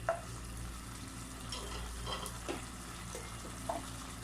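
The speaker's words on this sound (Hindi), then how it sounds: "और इसे बस 2-3 मिनट फ्राई करेंगे, ज़्यादा नहीं।" Boneless beef pieces frying in a pan for chili beef, giving a faint, steady sizzling hiss with a few soft clicks and stirring taps.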